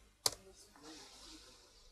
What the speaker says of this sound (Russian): теперь нажимаем на клавиатуре Enter